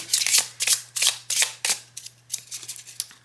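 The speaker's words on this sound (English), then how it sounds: "it slides beautifully, it shuffles beautifully." Cards being riffled and shuffled in quick repeated bursts, about ten crisp flutters close up, with a faint steady hum underneath.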